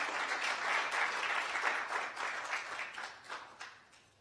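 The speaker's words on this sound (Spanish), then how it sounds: "Denle un aplauso al Señor" A church congregation applauds together in a sustained burst of clapping that swells and then gradually fades, with no voices over it.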